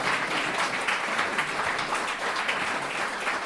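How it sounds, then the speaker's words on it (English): A crowd at a political gathering during the GOP Convention applauds at the close of the program, a full, sustained wash of clapping that stays steady and fairly loud throughout. "Please join me in giving these two guys a round of applause, and all of our speakers a round of applause."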